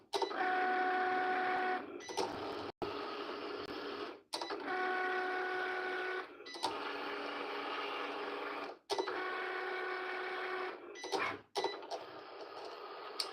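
A Cricut cutting machine whirs and buzzes through score marks in several mechanical bursts, each a few seconds long with a steady motor tone, separated by short clicks and pauses, close and fairly loud.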